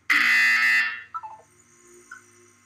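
A loud buzzer from the mandatory wellness exercise in the video game Portal 2 blares for just under a second, then cuts off into a few faint falling electronic tones.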